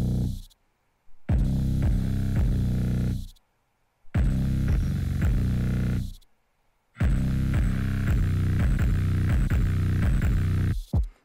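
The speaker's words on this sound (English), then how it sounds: "I slowly automate in the 808 distortion so that it slowly kind of creeps in" Music track with a distorted 808 bass building in, heavy thumping bass and beat playing in three loud sections separated by brief silent gaps.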